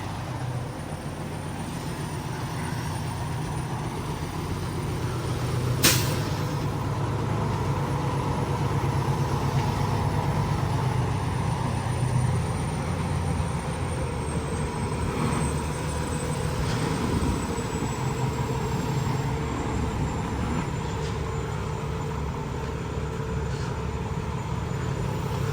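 An old heavy-equipment truck engine idles steadily at a low, constant rumble, close by and with no talk, holding an even level for the whole stretch.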